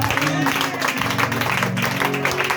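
Church congregation applauding and cheering in acclaim of the king of kings, a dense, sustained wash of clapping and crowd voices, loud and close, with music underneath.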